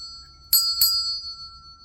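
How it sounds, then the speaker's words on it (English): Two bright bell strikes in quick succession, a notification chime with a clear ringing tone that fades over a faint steady hum, with no voices. "ring the notification bell for all notifications"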